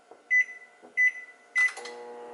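A microwave oven heating chicken with mozzarella gives three short, loud, evenly spaced beeps, then its low hum starts running steadily.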